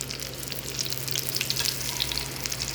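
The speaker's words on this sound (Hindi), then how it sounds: "तो ये देखें जी, कबाब हो रहे हैं हमारे फ्राई।" Chicken vegetable kebabs sizzle steadily in hot oil on a pan, a continuous close crackle with small popping bursts and a faint low hum beneath, no voices.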